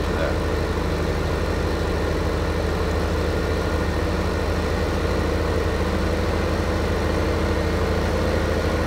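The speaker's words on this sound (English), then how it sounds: "He went and parked the tractor there." A tractor engine idles in Farming Simulator 15, a steady low rumble that holds evenly for the whole stretch with no talking over it.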